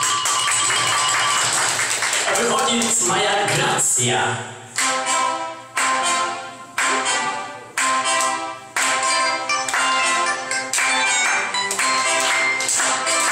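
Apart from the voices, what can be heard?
applause, ovation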